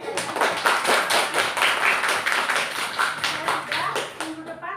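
Students in a classroom clapping their hands together, a quick, steady rhythm of sharp claps that continues throughout, close and fairly loud.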